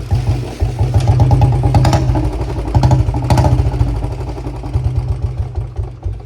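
A BS6 Royal Enfield Bullet motorcycle engine runs with its top end open, giving a loud, close thumping idle with a rhythmic low pulse, mechanical clatter and a couple of brief revs.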